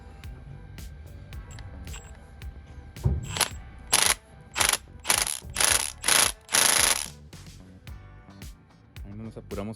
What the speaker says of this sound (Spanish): Ahí no nos apuramos con la pistola de impacto, ya que tiene graduación, entonces prácticamente estoy llegando únicamente al tornillo